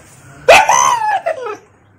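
A dog barks and yips in a short, close burst of several whining, rising-and-falling calls, loud over a quiet room.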